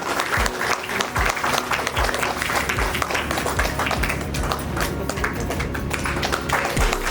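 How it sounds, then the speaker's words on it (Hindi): Audience applause at a felicitation ceremony for honored party workers, dense steady clapping from a crowd lasting throughout, with a few louder nearby claps standing out and a faint voice underneath. "तालियों से जोरदार तालियां"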